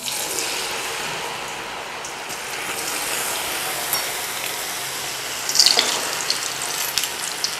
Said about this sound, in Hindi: बहुत ज़्यादा गर्म ऑयल में हम आलूओं को डाल देना है।